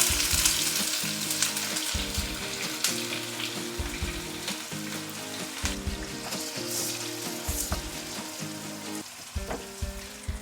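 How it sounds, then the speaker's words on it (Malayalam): Sliced onions frying in hot oil for ghee rice garnish, a steady loud sizzle and crackle alone throughout, with faint stirring clinks and no talk. "നമ്മൾക്കപ്പോൾ അരിഞ്ഞു വെച്ചിരിക്കുന്ന സവാള ഇട്ട് കൊടുക്കാം."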